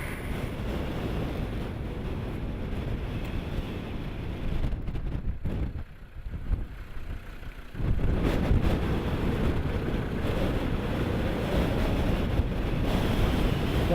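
High winds and heavy surf on a stormy sea in the Outer Hebrides, a loud continuous roar with gusty wind buffeting the microphone, a brief lull midway, then the rush returns stronger.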